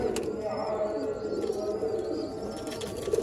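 Soft, low pigeon coos repeat amid a busy background with faint chirps and murmuring, the birds fairly near.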